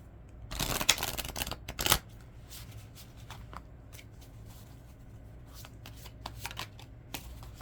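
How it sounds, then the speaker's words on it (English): A deck of self-care oracle cards is shuffled by hand in a quick riffling burst near the start, followed by softer card handling and light tapping, heard up close with no talking. "They're practical self-care oracle cards."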